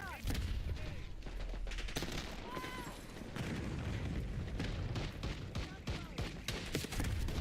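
Gunfire in Black Ops 6 including a sniper rifle, a chaotic mix of sharp cracks, booms and scattered shots at close and middle distance, with voices talking over the action.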